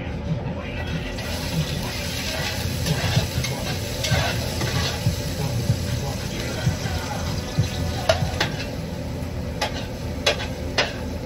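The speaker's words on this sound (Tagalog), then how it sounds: "magigisa tayo ng ginisang cabbage" Shredded cabbage sautéing in a pan gives a steady, close frying hiss, broken by scraping stir strokes and a few sharp metallic taps; a voice murmurs faintly in the background.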